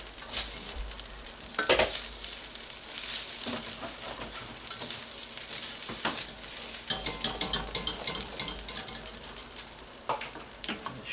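Shrimp sizzle and crackle steadily in a new wok, with stirring scrapes and clinks of a utensil against the pan throughout, close and fairly loud, no talking.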